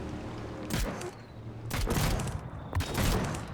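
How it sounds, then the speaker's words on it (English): Ship cannons fire in the building game Trailmakers, with about three booming volleys spaced roughly a second apart over a steady mechanical rumble, loud and close, and no talking. "So, and the cannons work,"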